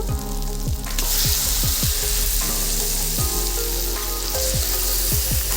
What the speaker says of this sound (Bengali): মশলাটা খুব ভালোভাবে কষানো হয়ে গেছে এবারে দিয়ে দেব মাংস